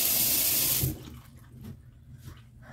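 Tap water runs loudly from a faucet while paint is washed off hands, a steady hiss that cuts off abruptly, followed by quieter handling sounds.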